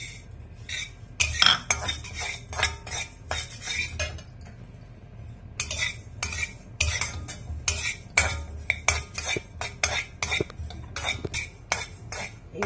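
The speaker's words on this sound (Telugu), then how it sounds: "ఇప్పుడు ఇందులో నువ్వులు వేసేసుకొని నువ్వులు కూడా వేయించుకుందాం." Sesame seeds roast in a pan while being stirred, with rhythmic close scraping and clinking strokes of a spoon against metal in quick repeated bursts.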